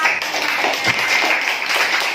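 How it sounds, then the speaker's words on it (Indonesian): A fourth-grade class claps their hands in a classroom, a dense, even patter of close clapping. "Kasih tepuk tangan dulu untuk kelas 4."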